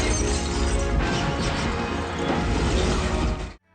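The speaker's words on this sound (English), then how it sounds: "boxes somehow make glass shattering sounds when disturbed" A loud glass-shattering sound effect from a low-budget action film, a dense crashing burst of breaking glass and debris lasting a few seconds before cutting off abruptly, no talk.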